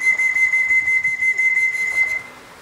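A person whistles a single steady, sustained note for about two seconds at a pigeon race arrival in Kosakowo, loud and close, then stops, leaving a quiet outdoor background.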